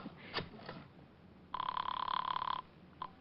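An old-fashioned telephone bell rings once in a sustained electric burst after a faint pause, with a brief second ring starting at the end, heard alone in a quiet room.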